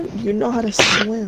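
A single short sneeze bursts out in the middle of casual talk, with a person speaking just before and after it.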